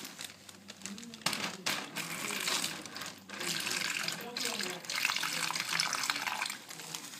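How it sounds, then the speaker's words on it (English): Water from a tap runs and splashes into a plastic bag in uneven bursts, a close hissing trickle with brief pauses between pours. "I'm going to put most probably about half a cup of water in"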